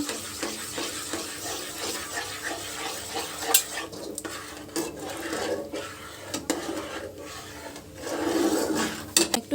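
Whipped sour yogurt stirred into a simmering gravy for an egg and potato biryani, a spoon scraping and clinking against the pot with soft wet swishing, close and steady, no voices.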